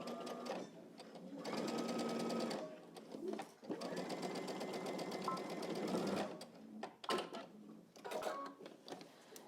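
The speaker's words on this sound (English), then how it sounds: "Back stitch at the other dot." A sewing machine back stitches fabric, running in close, loud bursts of rapid needle chatter with brief pauses between passes and a few short stops and restarts.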